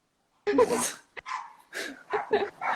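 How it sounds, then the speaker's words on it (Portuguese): A dog barks outside in front of an apartment building, several sharp barks in quick bursts over about three seconds, fairly close and clear. "agora tem um cachorro latindo na frente do prédio, a Lara veio na sacada latir pro cachorro."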